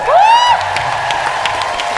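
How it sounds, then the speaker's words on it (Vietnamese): Studio audience clapping on a Vietnamese TV game show, opening with a quick rising whistle-like whoop, then a brief burst of loud crowd applause and cheering. "Vỗ tay."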